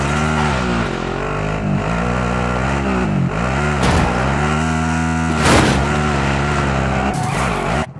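Vehicle engine while driving in Call of Duty Warzone, a loud continuous droning motor with rising and falling revs throughout, close and steady.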